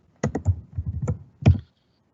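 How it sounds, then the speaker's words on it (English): Keys on a computer keyboard clatter in a short burst of quick taps, close and clear, ending with a firmer pair of strokes before silence. "The syntax that Sanjeev is typing here"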